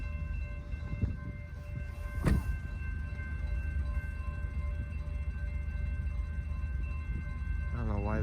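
A westbound CSX freight train rolls past on a cold day, a steady low rumble with faint tonal squeal and a brief sharp clank near the middle, the sound fairly constant throughout.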